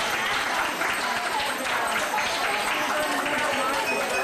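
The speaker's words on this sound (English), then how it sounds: "some nice round of applause for Derek Town on the winning day" Wedding reception guests break into a dense, sustained round of applause, loud and close, with crowd chatter mixed into the clapping throughout.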